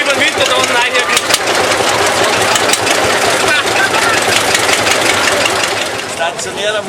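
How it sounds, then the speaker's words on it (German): An old stationary engine with V-belt pulleys runs at an outdoor vintage vehicle meet, a dense, busy mechanical clatter with a steady rhythm, loud and close throughout with faint crowd noise. "Stationärer Motor mit Keilscheiben"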